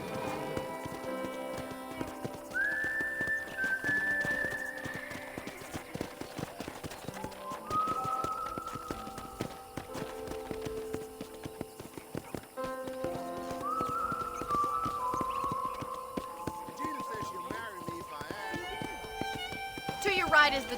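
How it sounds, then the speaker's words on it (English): Steady clip-clop of horse hooves at a walking pace under game music in Red Dead Redemption, with a few brief melodic tones and a swell near the end. "let's see if you can still ride a horse"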